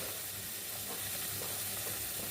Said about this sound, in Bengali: এবার এই মশলাটাকে কষিয়ে নেব ভালো করে